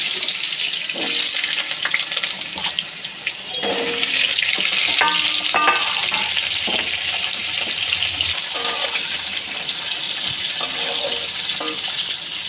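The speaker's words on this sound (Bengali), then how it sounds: "এবার এর মধ্যে আমি আলুগুলো ভেজে নেব।" Potatoes frying in hot oil in a wok with cumin, whole garam masala, a dried chilli and bay leaf, a loud continuous sizzle broken by occasional stirring clatter, close up with no voices.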